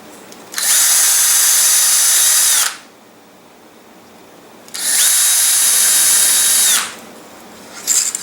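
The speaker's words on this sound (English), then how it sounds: "I'll just go ahead and drill all of the pilot holes out now" A power drill whines loudly drilling pilot holes for a model rocket in two long bursts of about two seconds each, with a quiet pause between and a brief start at the end.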